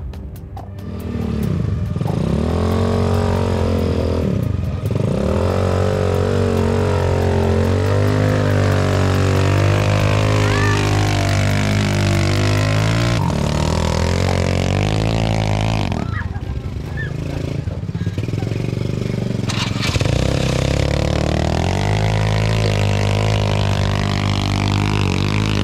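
A motorcycle engine labors loudly and continuously as it climbs a steep rural track in Cianjur, Indonesia, after a river crossing on a raft, with its pitch rising and falling as the throttle changes.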